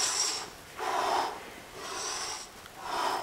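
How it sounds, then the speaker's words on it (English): Breath exhaled during triceps dips off a bench, heard as several soft, breathy puffs of air in a loose rhythm, close by and fairly quiet, with no talking. "breathing out."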